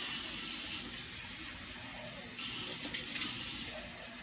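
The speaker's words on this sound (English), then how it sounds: "I'm gonna get some warm water from the tap," Warm water from a kitchen tap runs into a pot, a steady, moderately faint hissing stream that shifts slightly in tone as the pot fills, with no talk over it.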